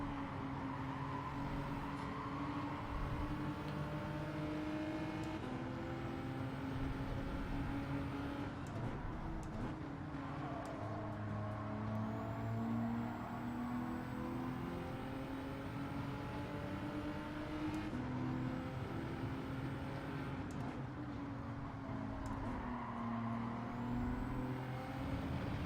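Race car engine in Gran Turismo 7, droning steadily for the whole stretch, with its pitch climbing through each gear and dropping at the short shifts, loud and close with no talk over it.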